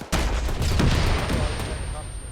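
An anti-tank rocket launched in a military video game gives a sudden loud blast and then a long roaring rumble that trails off, close and heavy, with a voice heard briefly.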